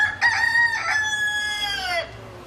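A cockerel crows once close by, a loud drawn-out cock-a-doodle-doo with a rising opening and a long falling tail, over a quiet background.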